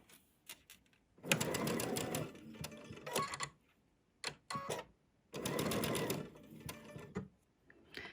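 A sewing machine chain-pieces quilt fabric for a butterfly quilt in two main bursts of rapid stitching, fairly close and moderately loud, with brief taps and handling sounds between runs.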